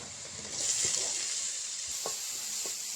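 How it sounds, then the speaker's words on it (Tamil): Tomato and onion frying in oil for pasta, a steady sizzle throughout with a few sharp clicks of a spatula stirring the pan, close and moderately loud with no talking. "டொமேட்டோ ஆட் பண்ணி நல்லா ஃப்ரை பண்ணி வச்சுக்கலாம்."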